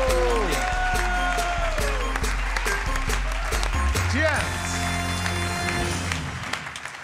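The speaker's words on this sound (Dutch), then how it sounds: "Een groot applaus voor Gian Doest" A crowd applauds for a panna football champion on a television show. The clapping sits under a busy mix of talk and tonal music-like sounds and fades toward the end.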